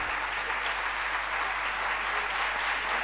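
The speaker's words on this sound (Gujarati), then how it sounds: "આ જે હાથે તાળીઓ પાડીને વધાવો છો" Devotees at a Swaminarayan gathering for an acharya's 64th birth celebration clap their hands in sustained, dense applause that fills the whole stretch evenly, with no talk over it.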